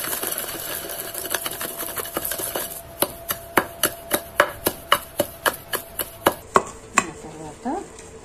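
Green chillies being crushed finely for cucumber chutney: a series of sharp, evenly spaced pounding knocks, close and distinct, after a stretch of rapid lighter grinding clatter.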